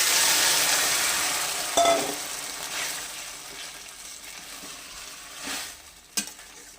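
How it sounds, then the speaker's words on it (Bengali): Leafy greens (lelta shaak) hitting hot oil with garlic in a pan give a loud, steady sizzle that slowly fades, broken by a couple of sharp spatula clinks near the end. "এবার আমি শাকটা ওই তেলের মধ্যে দিয়ে দিচ্ছি"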